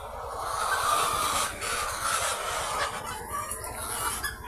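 White layer hens cluck and murmur in a flock, overlapping soft calls from fairly close that continue throughout, with no voices.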